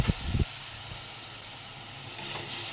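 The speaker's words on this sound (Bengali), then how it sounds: "মশলাগুলো দেওয়ার পর অল্প জল দিয়ে দিচ্ছি, যাতে মশলাটা পুড়ে না যায়।" Water poured into a pan of frying spices with sugar and turmeric sets off a loud, continuous steamy hiss and sizzle after a few brief knocks, ending with a slight surge.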